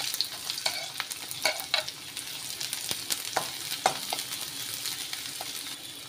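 Sliced onions frying and being stirred in a pan, a steady hiss of sizzling oil broken by scraping and clicking strokes of a spoon against the pan, close and fairly quiet, no talking.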